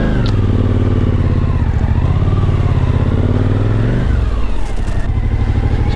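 Yamaha Tenere motorcycles roll in to park at a border post, their engines rumbling steadily up close with a brief dip in revs near the end and no talking.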